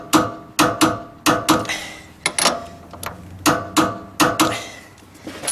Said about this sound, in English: we're just going to go ahead and use our impact gun and tighten that back down